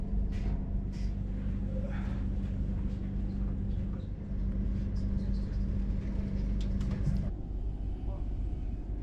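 A Railjet train climbing through Austrian alpine countryside, heard as a steady, loud low rumble of running gear and rail noise continuing throughout, with a brief dip near the middle.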